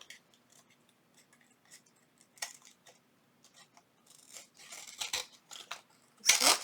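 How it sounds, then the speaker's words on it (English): Scissors snip around the edge of paper for a junk journal window tag, giving soft, quick cuts that grow denser and louder toward the end, in a quiet room with a faint fan hum underneath. "So I'm just going to trim around the edge."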